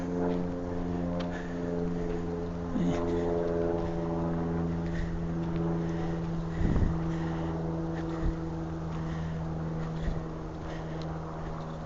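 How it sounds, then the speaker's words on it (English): A steady, droning engine rumble of an airplane passing overhead in Manchester, continuous and moderately loud with a faint wind-like hiss. "I don't know if you heard it, but that's a plane."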